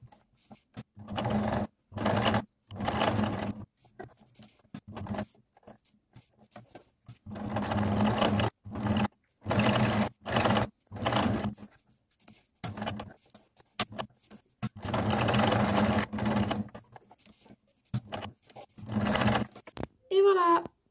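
A sewing machine stitches a patch pocket with a flap onto fabric in repeated bursts of close, steady mechanical whirring separated by short pauses, with faint handling noise between runs.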